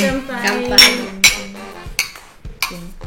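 Glasses clink together for a toast during a Japanese snack and sparkling water tasting, with several sharp, bright chinks spaced across the moment over a low hum.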